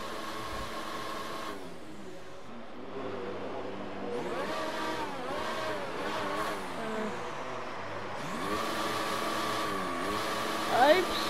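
F1 car from the game F1 2019 with its wheels spinning, a whining engine rising and falling in pitch with repeated revving surges, while a voice talks over it.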